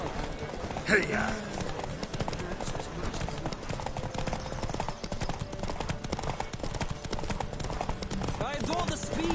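Horse hooves pound at a gallop in a Witcher 3 horse race, a fast, steady clip-clop under continuous game music and spoken dialogue.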